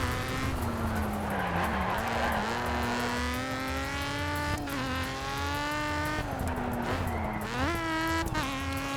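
A ratty VQ35-engined car races in the video game DiRT 2, its engine revving hard through repeated rising and falling pitch sweeps with gear changes, loud and continuous, with some tire noise.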